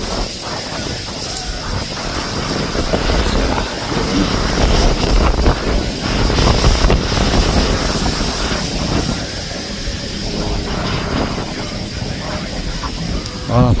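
Strong wind buffets the microphone at an RC flying field where reeds sway, making a continuous loud rumbling roar with gusty swells throughout, and no clear voices come through.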